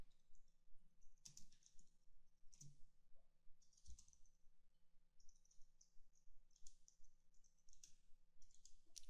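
Quiet clusters of computer keyboard keystrokes as a code is typed in, short bursts of rapid clicking separated by brief pauses, close and dry in a hushed room.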